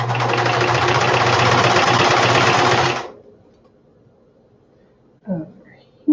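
A sewing machine running a straight stitch, a loud close continuous mechanical whirr with a rapid rhythmic needle beat for about three seconds before stopping abruptly into quiet, followed by a brief soft voice.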